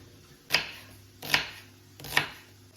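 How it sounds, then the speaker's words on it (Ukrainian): A small onion is chopped finely with a knife on a board, three crisp, evenly spaced strikes at close range over a low kitchen hum, with no talking. "Таку невеличку цибулю наріжемо дрібненько."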